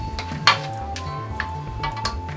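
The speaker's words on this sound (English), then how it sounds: "You can hear it sizzling again now" Chicken sizzles steadily in a pan during stir-frying for yakisoba, with a spatula scraping and clinking against the pan at irregular moments, close and fairly loud without any talk.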